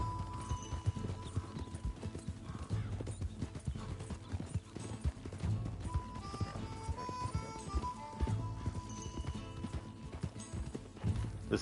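Horse hooves clip-clop steadily in Red Dead Redemption II, a continuous rhythmic gait heard fairly close over the game's ambient music, with an occasional whinny.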